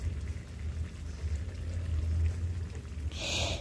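Rohu fish curry with drumsticks, potato and lentil badi simmering in a pan, a steady low bubbling and gentle watery spatter throughout, with a brief brighter hiss near the end.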